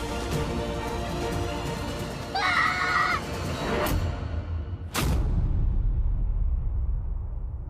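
A girl screams in a tense family drama scene, a sharp high cry bursting out over a dense music score, with a second brief shriek near the end.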